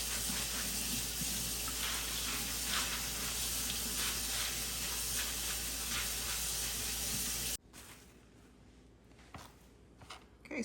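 Pinto beans being washed in a strainer under a running kitchen faucet, a steady loud hiss of spraying water that stops abruptly near the end, leaving a quiet room.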